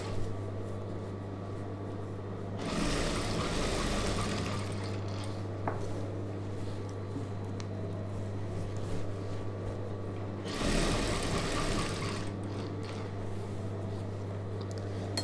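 Sewing machine stitching the neck of a chudidhar, two bursts of steady whirring motor at moderate level, separated by a quieter stretch with a constant low hum underneath.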